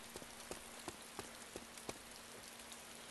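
Rain in the DayZ video game falls through a building's roof, faint and steady, with scattered drops tapping a hard surface at irregular intervals over a low background hum.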